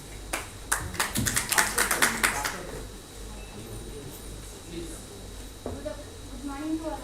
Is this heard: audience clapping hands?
yes